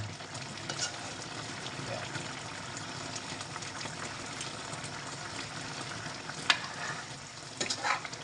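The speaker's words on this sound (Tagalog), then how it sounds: "Dahan-dahan lang natin haluin yan." Milkfish and vegetables stirred gently in a frying pan, with a steady sizzle of frying beneath soft, continuous scraping and stirring, plus a couple of sharper clinks near the end.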